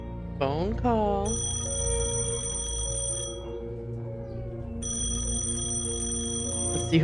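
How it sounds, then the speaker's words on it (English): A phone rings in the video game Penelope Pendrick, a steady electronic ringing tone pulsing across the clip, with a voice briefly audible at the start over the tone. "Phone call."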